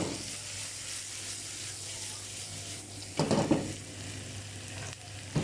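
Crispy fried fish being stir-fried with red chili and onion in a pan, a soft continuous sizzle with a burst of louder scraping and tossing near the end.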